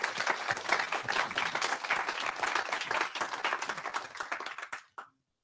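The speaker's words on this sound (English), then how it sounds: "give Mara another round of applause" Audience applause after a talk at a London web performance meetup, lively and steady clapping from a modest room crowd for nearly five seconds, then fading out abruptly with a last clap or two.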